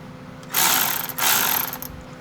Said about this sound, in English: So we're going to take this bolt out, the drain bolt.